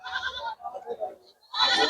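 Beetal goats bleat loudly and close by, a few wavering calls in quick succession with a short pause before the last one.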